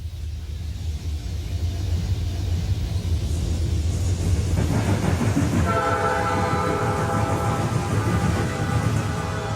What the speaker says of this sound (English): a southbound Norfolk Southern train bangs across Conrail